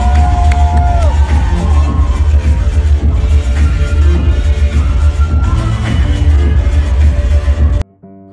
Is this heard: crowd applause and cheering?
yes